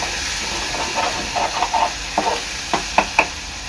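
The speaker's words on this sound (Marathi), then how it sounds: "वाटण तेलामध्ये चांगलं तळून घ्यायचं आहे" Vatan spice paste frying in oil in a pan on a gas stove at low flame, a steady loud hiss of sizzling with several short bursts of spattering and stirring toward the end.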